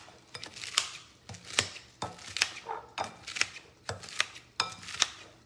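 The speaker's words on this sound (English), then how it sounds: "all I gotta do is go around my bowl and chop" A knife chops lettuce in a bowl with steady, evenly spaced strikes, each one crisp and close, roughly two per second, with no voices.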